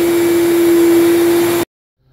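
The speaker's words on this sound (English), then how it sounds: "vacs now, so it's double vacuuming." Two shop vacuums running together while clearing cellulose insulation in a house project, a loud steady whine with a strong hum that cuts off abruptly into silence.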